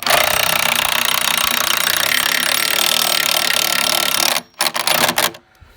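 A Simpson Titan screw anchor is driven into a drilled hole in concrete by a loud, close power tool hammering continuously for about four seconds, then stopping in a few short bursts.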